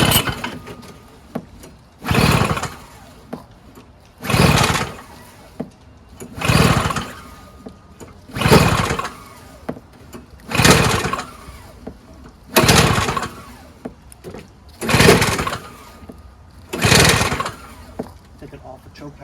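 A Tecumseh 3.5HP single-stage snowblower engine with a recoil starter turns over in repeated bursts about two seconds apart, each a loud, rough chug that catches briefly and then dies back.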